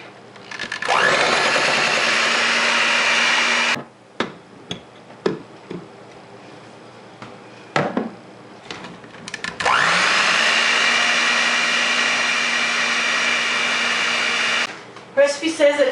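An electric mixer whirs loudly in two long bursts as it blends powdered sugar into frosting, with clicks, knocks and bowl taps between the runs.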